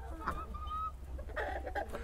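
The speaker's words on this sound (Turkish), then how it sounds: "tavuklar birbirine girdi" Chickens clucking and squabbling as they fight, with short agitated clucks and squawks close by over a low background rumble.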